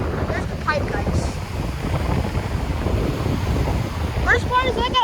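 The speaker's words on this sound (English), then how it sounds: "How big the waves are" Ocean surf rolls continuously at Avon beach, a broad roar mixed with wind buffeting the microphone, with a person speaking briefly over it.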